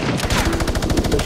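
Rapid automatic gunfire in the video game Fortnite, a loud close burst of evenly spaced shots lasting just over a second with no talk over it.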